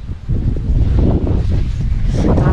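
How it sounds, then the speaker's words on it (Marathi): Wind blowing outdoors in a village, a loud, gusty rumble buffeting the microphone continuously, with rustling throughout. "आहे वारा मस्त आहे"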